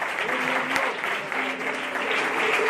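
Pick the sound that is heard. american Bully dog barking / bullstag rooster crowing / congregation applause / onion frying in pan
congregation applause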